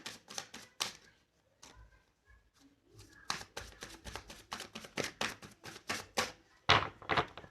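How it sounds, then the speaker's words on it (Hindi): Tarot cards shuffled in a series of rapid, crisp riffling bursts, fairly close and dry, with a short pause early on before the shuffling resumes steadily; no talking. "हमने कार्ड शफल कर लिए"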